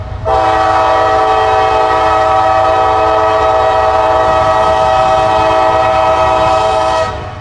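A freight train's loud, sustained horn blares for several seconds over the low rumble of the passing train, then cuts off abruptly.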